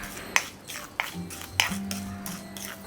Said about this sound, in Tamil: ஸோ இப்போ நான் இதை நல்லா வறுத்துக்கிறேன்